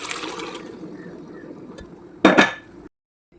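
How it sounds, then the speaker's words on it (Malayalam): Cooked pork tipped into sizzling masala in a pan for Kerala-style pork roast, a steady frying hiss followed by a loud, brief clatter of meat and utensil hitting the pan, then sudden silence. "നമുക്ക് ഇതിനകത്തോട്ട് നമ്മുടെ പോർക്ക് വേവിച്ച് നമുക്കിട്ട് കൊടുക്കാം"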